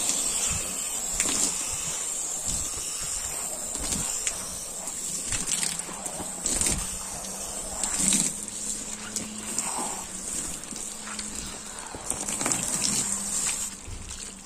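A car is washed with a soap-dispensing brush, giving continuous gushing, splashing water with repeated scrubbing swishes and knocks as the brush moves over the car, nearby and at moderate volume.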